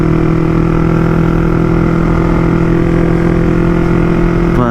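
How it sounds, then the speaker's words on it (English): A Yamaha MT-03 with a full Akrapovic exhaust idles while warming up, a loud, steady engine drone with a firm low hum that runs unbroken from start to finish, close by and with no voices. "Just letting the bike warm up right now."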